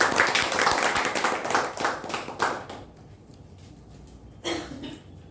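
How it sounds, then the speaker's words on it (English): Applause from a small audience at a Toastmasters club meeting, a few seconds of scattered clapping that thins out and stops, followed by a brief cough or noise. "Please give him a round of applause."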